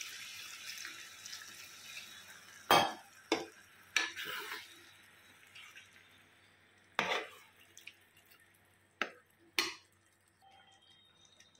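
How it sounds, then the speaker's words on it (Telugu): Water poured in a few short splashy bursts into a pot of Andhra-style chicken curry, close and fairly quiet, with gaps of near silence between pours. "ఇప్పుడు మనం ముక్క మునిగేలాగా వాటర్ పోద్దామండి"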